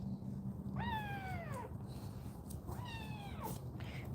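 A kitten gives two drawn-out meows a couple of seconds apart, moderately close, over a steady low room hum, with no talking.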